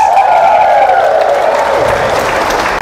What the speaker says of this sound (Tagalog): pumalakpak kayo ng malakas.